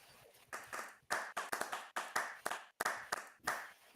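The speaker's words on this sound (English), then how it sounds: "Let's give a round of applause to Basumo." Sparse, uneven clapping from a small audience applauding a presenter, a few hands clapping in quick irregular bursts, fairly close and modest in volume.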